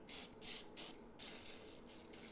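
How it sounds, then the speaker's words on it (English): Nonstick cooking spray hissing from a can onto stuffed baked apples in short bursts, several close spritzes separated by brief pauses. "So you're going to use a little bit of nonstick spray."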